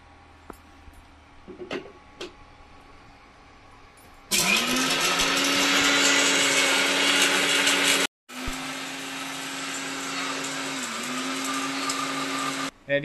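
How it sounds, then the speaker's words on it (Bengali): An electric mixer grinder grinding roasted spices, preceded by a few small taps, then a loud, steady whirring motor drone that stops briefly and starts again. "আমি মিক্সির মধ্যে গুঁড়ো করে নেবো, তোমরা চাইলে শিলনোড়াতেও করতে পারো, মিক্সিতে সহজে হয়ে যায়"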